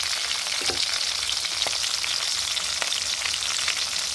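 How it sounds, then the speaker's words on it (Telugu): Okra sizzling steadily in a hot pan for an Andhra village-style chutney, a continuous close crackle with a few soft stirring scrapes and no voices. "బెండకాయలు ఒకటి ఫస్ట్ ఫ్రై చేసుకుంటే సరిపోతుంది"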